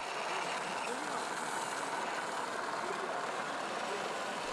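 A motorised plastic model tank runs at a hobby show, producing a faint, steady mechanical hum mixed with the hall's background noise and nearby voices.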